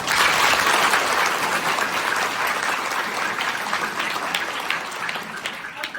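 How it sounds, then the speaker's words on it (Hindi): Schoolchildren clap together before a Red Cross society magic show at their school, a dense, loud burst of applause that gradually thins and softens over several seconds. "तो शो को शुरू करने से पहले सभी बच्चे तालियां बजाएंगे।"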